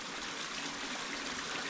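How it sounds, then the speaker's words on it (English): A small stream of water trickles steadily through a canyon cave, a continuous soft splashing wash with no pauses. "With this little water running, I'm guessing the waterfall's not really running."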